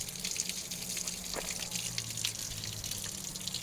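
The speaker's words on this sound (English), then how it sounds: "That's pretty rusty water. You can let it run out." Rusty coolant drains out of a Freightliner FLA radiator as a steady trickling, dripping run of water, fairly faint and continuous beneath a low engine-bay hum.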